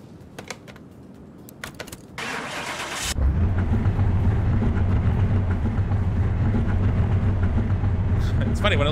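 A car engine in the video game Car Mechanic Simulator 2021 starts after a few clicks and settles into a steady, loud idle rumble, with a voice talking over it.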